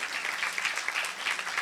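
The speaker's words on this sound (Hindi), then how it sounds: "तालियां बजाओ ना" A church congregation bursts into dense, sustained applause during a sermon, loud and even throughout with no single claps standing out.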